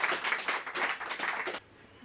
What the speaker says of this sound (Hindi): एक बार जोरदार तालियां प्रदीप जी के लिए।